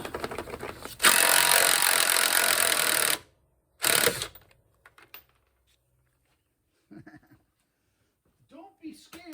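Loud, steady whirring of a power tool loosening the 9/16 rear mount bolts on a 1956 Chevy pickup runs for about two seconds, then a second short burst follows, before quiet clicks and someone speaking.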